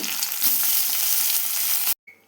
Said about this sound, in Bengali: মাছগুলো ভাজলে দেখো বন্ধুরা আমি এরকম করে ভেজে নিচ্ছি